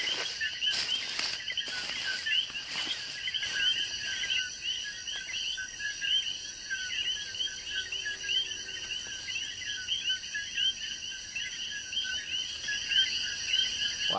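A dense night chorus of frogs fills a Puerto Rico rainforest, with countless rapid, high chirping calls overlapping continuously. Some sharp near clicks rise above the chorus early on, and no voices are heard.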